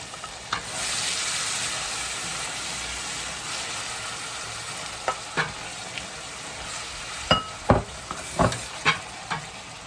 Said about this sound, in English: Now I'm gonna put in my diced tomato.